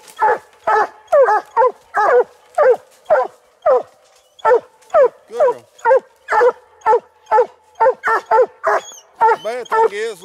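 Coon hunting dogs near a river bend golf course bark loudly and rhythmically in a steady run of close, evenly spaced barks, the later ones turning into drawn-out howling bawls.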